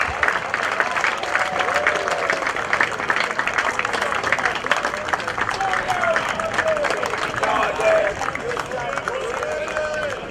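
Crowd applause at the Under-20 European lacrosse championship medal ceremony in Wrocław, sustained clapping from a fairly large outdoor audience with cheering and voices mixed in throughout.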